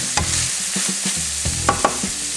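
Greasy meat browns in a frying pan with a constant bright sizzle, broken by several sharp clacks and scrapes of a utensil stirring it. No one speaks.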